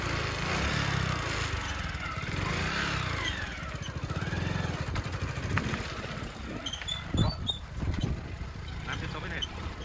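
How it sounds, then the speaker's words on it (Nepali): A motorcycle engine runs close by, a steady rough drone with some revving as it moves off, heard under chatter from people nearby. "अब समर्पणले बाइक स्टार्ट गर्छ"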